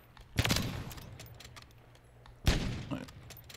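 MCPR 300 sniper rifle fired at the shooting range in a video game, two separate sharp, booming shots about two seconds apart, each trailing off in echo, with quiet gaps between.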